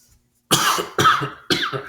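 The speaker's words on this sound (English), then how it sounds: "this cough has me all messed up" Three harsh coughs in quick succession, close and loud, after a brief silence.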